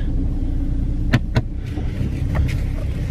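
A car with its engine running as it is moved, giving a steady low rumble close by with a couple of sharp clunks partway through and no talking.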